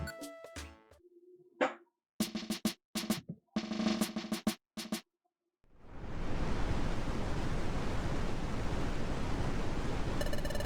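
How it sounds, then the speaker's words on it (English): A pounding waterfall in the video game Pokémon Mystery Dungeon: Explorers of Sky, a loud, steady broadband roar of rushing water that starts abruptly partway through, after a stretch of game music and menu blips. "So this is the waterfall that's supposed to have a secret. Wow! The water's pounding down!"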